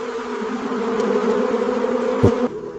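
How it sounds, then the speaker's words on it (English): Bees buzzing steadily inside a tomato greenhouse, a loud close droning hum with a wavering pitch and one brief sharp knock near the end, no voices. "they still need bees to pollinate every plant"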